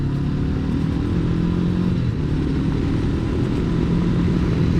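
A 2021 Honda CB500X motorcycle rolls over gravel with a steady, close engine drone and continuous low crunching rumble from the tires, no voices over it.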